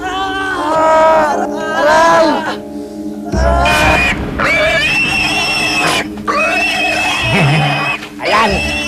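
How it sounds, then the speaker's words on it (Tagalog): Pigs oink and squeal loudly in a busy, dense mix, with voices talking and shouting over and between the animal noises. "Maingay ng baboy."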